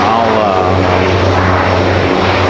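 A Boeing 787 Dreamliner at Raleigh-Durham International Airport gives a loud, steady engine roar with a deep low drone, holding constant throughout with no talk.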